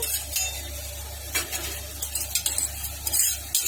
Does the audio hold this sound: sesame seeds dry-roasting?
yes